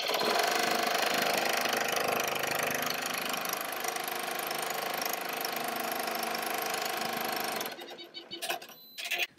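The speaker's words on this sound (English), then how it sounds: "now we'll sew the placement stitch for the mask" An embroidery machine stitches the placement outline for a personalized face mask, a steady, dense mechanical whirring that runs loud and continuous for most of the clip before stopping, followed by a few brief clicks and handling sounds.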